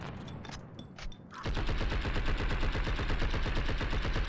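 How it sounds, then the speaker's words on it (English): Rapid automatic gunfire blasts in the video game Blood and Bacon as a blimp is shot down, starting after a few scattered shots and continuing as a loud, steady burst of fast repeating rounds. "Bro, I'm shooting the blimp down, I think."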